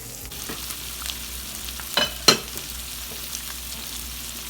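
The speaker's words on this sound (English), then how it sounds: "I'm gonna saute them on low." Escargot sauté on low heat in garlic butter with parsley, giving a soft continuous sizzle punctuated by two sharp utensil clinks against the pan near the middle.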